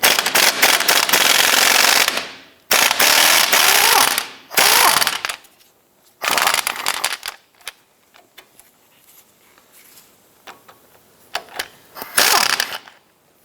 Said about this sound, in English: I'm going to use my impact gun and try and remove it from the other side.